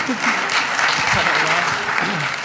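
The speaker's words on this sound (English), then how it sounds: "A round of applause for the gold standard" Brisk audience applause at an economics debate, a short burst of dense clapping with a voice faintly audible underneath.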